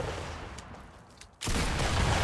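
Dense gunfire from the Fortnite video game, a steady wash of shots that dips briefly and then returns louder and sustained, with no talking.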